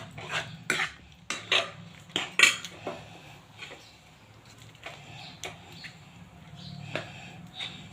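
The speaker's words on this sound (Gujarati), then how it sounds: "મિક્સ કરી લઈશું।" A spoon stirs chana dal and spinach in a metal pot, giving a run of sharp clinks and scrapes against the pot, loudest early on and then softer and more scattered.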